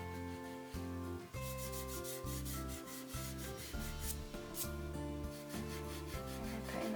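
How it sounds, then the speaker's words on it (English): A standard rubber eraser rubs charcoal off paper in repeated back-and-forth strokes, a close, soft scratchy sound in a steady rhythm. "if you take a rubber, it's a standard rubber, you should be able to remove more of the charcoal"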